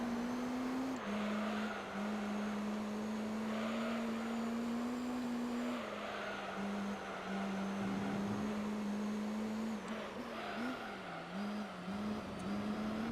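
A 700-horsepower Belgian Vertigo race car in Gran Turismo 3 holds a constant loud engine tone that wavers slightly through shifts and braking, then dips and recovers near the end, with no voices.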